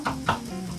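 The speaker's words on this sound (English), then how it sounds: "how to cook the onions until they are translucent or they're changing the color." Onions seasoned with salt and black pepper fry in a pan, giving a brief close sizzle with a couple of soft stirring scrapes and no talk.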